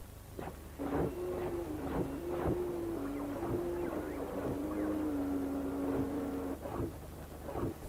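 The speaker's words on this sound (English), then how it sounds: "their mechanical movements and operating sounds." Repeated mechanical whirring and clanking from a moving swarm of robot dogs, with a low motor tone shifting pitch and sharp rhythmic thuds about every half second, steady and moderately close.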